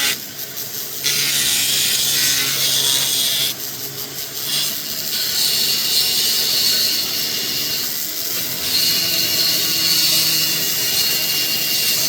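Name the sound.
carving tool grinding Deer Creek fire agate with Nova points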